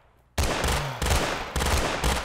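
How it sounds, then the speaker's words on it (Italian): Rapid bursts of gunfire from a sniper-style weapon in a Minecraft player-versus-player match, several loud close shots in a row with short gaps between them and no talk. "io sparo a Muzzone di, di Eren"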